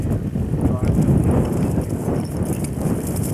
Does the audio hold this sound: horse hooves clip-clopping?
yes